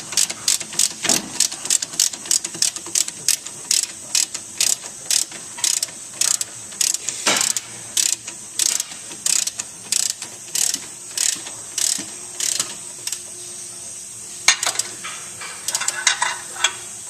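A ratchet clicks in fast repeated bursts while loosening a strut nut on a 1998 Hyundai Accent, each run of pawl clicks separated by brief pauses, close and clear with no talk.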